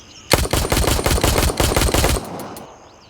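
Rapid automatic rifle fire in the shooter game Gray Zone Warfare, a loud sustained burst of close shots lasting about two seconds, then a fading tail.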